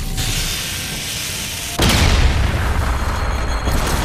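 A breach charge detonating in Call of Duty: Infinite Warfare, set against ambient game noise, then a sudden close, loud blast with rumbling debris that fades slowly.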